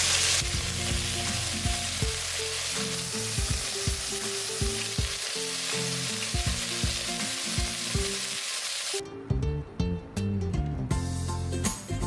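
Chicken pieces for a chicken stew sear in a hot pan, a loud, steady sizzle running throughout with occasional crackles and a brief shift near the end, no voices.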